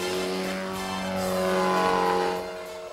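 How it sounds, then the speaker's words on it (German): A ZTZ 160 cc engine powers a Cup 232 model plane at a model flying day, droning steadily and loudly with a strong harmonic buzz that swells slightly and then eases off near the end. "Natürlich ein ZTZ 160 Kubikmotor"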